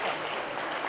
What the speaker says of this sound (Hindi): हाँ तालियां, जोर से तालियां।